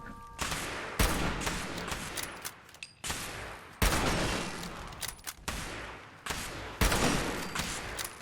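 Hunting rifle shots in the game Fallout 76 ring out as several loud, sharp cracks at roughly one-to-three-second intervals, each trailing off in a long echoing tail, with no talk over them.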